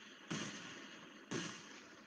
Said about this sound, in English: now the fireworks come